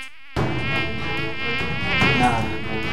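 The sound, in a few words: mosquito buzzing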